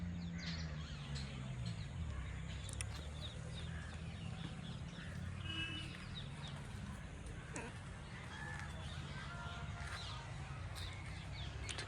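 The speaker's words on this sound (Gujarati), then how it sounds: "પક્ષીઓનો કલરવ ભાઈ જોરદાર." Birds chirp and call near a temple in a natural outdoor setting, faint scattered tweets over a steady broadband background, with light voices around.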